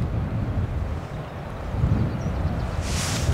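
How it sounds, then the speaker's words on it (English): Gusting wind buffeting the microphone on a seaside golf links course, a steady low rumbling roar with a brief hiss near the end, loud and close with no talk. "This wind."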